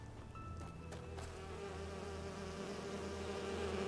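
Bees buzz in the video game Enderal: a faint, steady drone that holds evenly throughout without breaks or talking.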